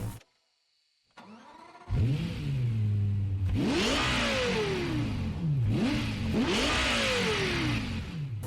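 A car in the Forza video game starts up with a brief cranking whine, then settles into a loud idle and revs sharply twice, each rise in pitch falling back down, with no talk over it.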